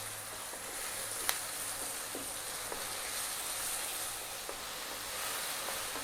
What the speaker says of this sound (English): let's cook this paste out. Stirring pretty much all the time now.